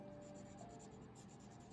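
A blender pencil rubs softly over thin paper in quick, faint back-and-forth strokes, close and quiet, with no voice over it.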